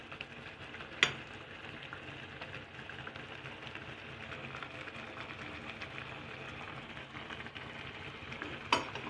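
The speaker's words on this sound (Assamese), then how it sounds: "উতলি আছে" Curry made from bhedailota (skunkvine) leaves simmers in a pan, giving a faint, steady bubbling hiss throughout with a couple of brief clicks and no talking.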